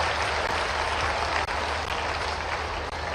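Audience applause welcoming the Chief Minister at a public event in Madhya Pradesh, a loud, continuous, even roar of many hands clapping heard on its own.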